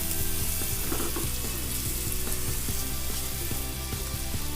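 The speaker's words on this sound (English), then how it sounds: "fry all the masala very well" Masala with cumin powder, onion and tomato frying in a pan for spicy-sweet karela, a loud dense sizzle running throughout with faint rhythmic scraping underneath.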